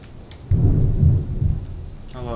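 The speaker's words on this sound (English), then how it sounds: "Hello, Thunder." Deep thunder rumbles in Team Fortress 2, a loud rolling boom in a few surges over light rain, then fades as a brief voice-like tone enters.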